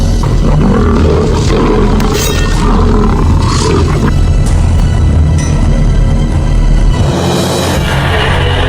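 Lions roaring in a school dramatization of Florante at Laura: loud, rumbling roars and growls mixed with dense, noisy background sound, continuous throughout with no speech.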